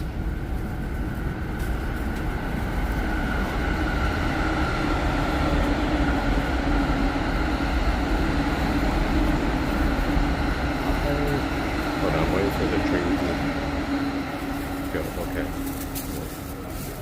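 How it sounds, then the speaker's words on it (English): A loud, steady rumble of a train passing close overhead in Tokyo, a continuous roar with clattering texture, with people talking faintly beneath it. "Train above my head is basically like so loud."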